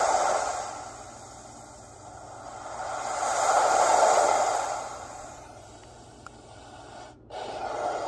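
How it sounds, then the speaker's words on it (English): Ocean waves setting on a Babelio white noise machine gives a soft hiss that slowly swells and recedes like surf washing in, then briefly cuts out near the end. "Ocean waves 1."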